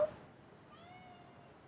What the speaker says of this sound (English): Cat, what are you doing?